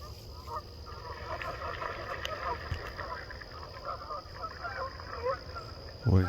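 Ducks honking as a walker approaches near water, repeated nasal calls at moderate distance under quiet outdoor ambience, with a soft voice briefly present.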